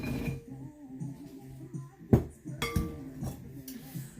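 Clinks and knocks of Brussels sprouts and other vegetables dropping into a bigger bowl, with a few louder thuds and scattered light clatter.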